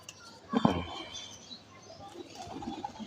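A pigeon kept by a fancier gives a sudden close burst of wing flapping with a soft coo, then quieter rustling and faint room sounds, with some background voice activity.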